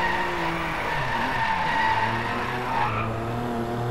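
BMW M4 sliding through a drift in the racing game Driveclub, engine droning steadily with a rising tire squeal pitched over it, close and continuous for a few seconds.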